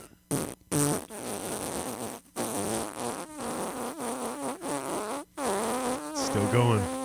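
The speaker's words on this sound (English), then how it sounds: "The longer the fart noises, the better." A long buzzing fart sound effect plays for several seconds with brief pauses, a raspy sputtering drone near the mic, with voices and laughter mixed in on a radio show.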